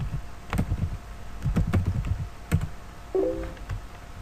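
Keystrokes on a computer keyboard while an Arduino download is searched, a few scattered taps and short bursts close by against a low room hum, with no talking.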